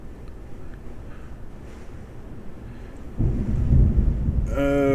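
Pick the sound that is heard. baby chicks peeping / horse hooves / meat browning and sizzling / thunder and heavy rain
thunder and heavy rain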